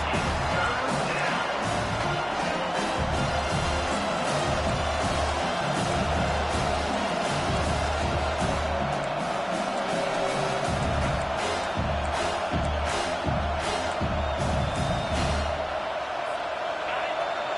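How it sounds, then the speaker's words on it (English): A college football stadium crowd roars steadily as the defense lines up on third down, with a dense, loud wall of noise and a commentator's voice over it. "Decibels rising as the crowd gets behind this defense on third down."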